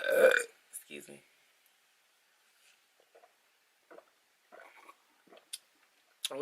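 A woman belches loudly and close up after drinking soda, a single burp at the start followed by brief bits of talk and quiet small noises.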